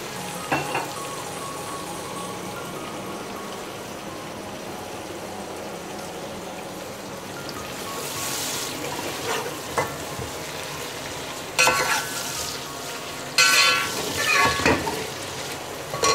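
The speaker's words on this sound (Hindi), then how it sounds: "प्याज को हम सौते करेंगे।" Onions sauté in hot oil for an Indian-style Bombay biryani, a steady sizzle that runs throughout. Brief bursts of stirring or scraping come toward the end.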